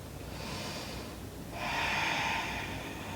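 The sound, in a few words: deep breathing during a yoga stretch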